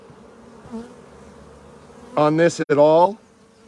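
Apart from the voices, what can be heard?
honey bees buzzing at an opened hive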